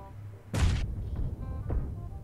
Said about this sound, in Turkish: Oha, bomba attı.